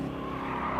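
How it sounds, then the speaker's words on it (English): A Corvette race car in the Gran Turismo racing game drives on a track, its engine a steady, continuous drone throughout with no talk over it. "Other cars are passing me."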